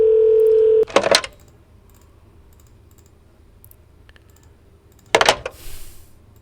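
Steady telephone dial tone in a basketball video game, cut off after about a second by rapid keypad dialing clicks, then a quiet pause and a second burst of dialing or keypresses.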